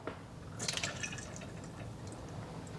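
Liquid poured off kefir grains: a short splashing burst of pouring, then quieter trickling and dripping over a steady low background, with no one talking.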